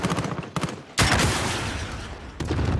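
Rapid bursts of video game gunfire crackle loudly, with a heavy blast in the middle followed by a lingering rumble, then more quick shots.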